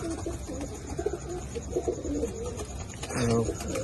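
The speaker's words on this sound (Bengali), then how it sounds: "এটা নর পায়রা আছে।" A male pigeon cooing nearby, with soft throaty coos that rise toward the end over a low background murmur.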